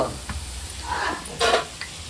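Masala sautéing in a pan on a home stove, a low steady sizzle with a few scraping stirs of a spoon, close and fairly quiet, with no talking.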